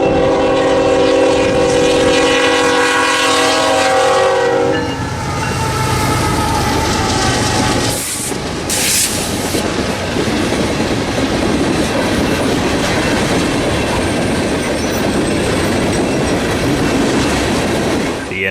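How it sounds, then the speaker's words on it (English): BNSF eastbound manifest freight train led by unit 3737 with two GP38-2 locomotives trailing, beside the flooded Missouri River: a loud, sustained horn blast for about five seconds, then continuous rumble and rolling clatter of cars passing close by. "BNSF 3737 East leads a manifest freight train with two GP38-2s in trail"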